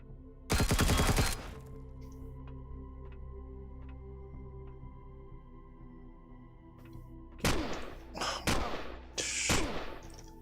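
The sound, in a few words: turret gunfire in video game Empyrion Galactic Survival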